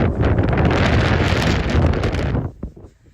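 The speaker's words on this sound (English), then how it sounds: "30 to 40 mile an hour sustained winds. And then some of these gusts that are coming through are like 60, 70 mile an hour" Strong gusty wind on a Montana trail, sustained around 30 to 40 mph with gusts near 60 to 70, roars and buffets loudly against the microphone for a few seconds before abruptly easing off.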